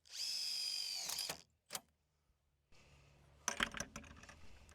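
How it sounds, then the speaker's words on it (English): A cordless power drill drives screws into a LokkLatch Deluxe latch bar: a high whining run of about a second, a short burst, a pause, then rattling clicks and a second short drive, fairly quiet and close. "These last couple of screws are going to go in and then the latch bar will be nice and secure."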